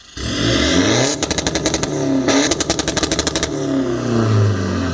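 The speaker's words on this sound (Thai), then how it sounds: "เดี๋ยวฟังเสียงกันครับการเบิ้ล" Pickup truck engine with an aftermarket exhaust revving hard, loud and close, with two bursts of rapid popping, crackling blips between sustained high revs, then dropping back toward idle.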